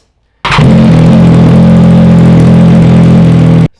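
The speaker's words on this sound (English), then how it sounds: "So as you guys can hear this exhaust" A Triumph Daytona 660 motorcycle on its stock exhaust starts up loudly and settles into a steady, strong idle that runs for about three seconds and then cuts off abruptly. No one talks over it.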